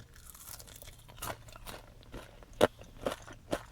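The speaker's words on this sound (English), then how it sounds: "Let's try a hash brown." A crunchy fast-food hash brown is bitten and chewed up close, with a few sharp crunches spaced out over quiet mouth sounds.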